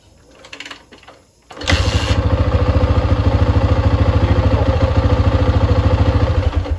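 A Honda XR650R motorcycle cranks and catches after a few quiet clicks, then settles into a loud, steady, thumping single-cylinder idle close by.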